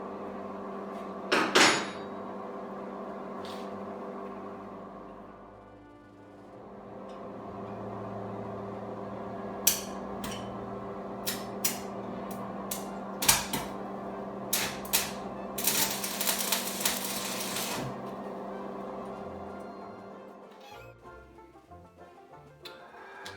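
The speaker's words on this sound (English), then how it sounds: "I think I'm just going to try to hold it and tack it, and then weld it up proper" A steel shepherd's hook is welded over a steady electrical hum, with a few brief crackling tacks followed by a denser sputtering weld burst, close and moderately loud, with no talk.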